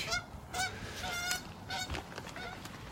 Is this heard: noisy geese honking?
yes